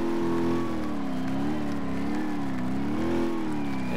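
A car engine in the BeamNG.drive driving simulator revs as the gas pedal is pressed, with a steady loud drone that rises and falls in pitch several times, alone with no talk.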